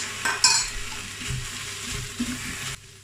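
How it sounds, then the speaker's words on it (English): Pan sizzling and crackling steadily as vegetable stock hits it to deglaze, with a brief louder hiss early and some stirring scrapes, ending abruptly. "I'm gonna just put a couple of tablespoons of the stock here to just help deglaze it"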